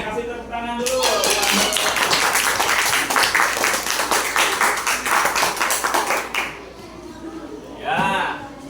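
A classroom of students claps for a classmate in a burst of quick, fairly loud clapping that fades out, followed by a teacher speaking briefly.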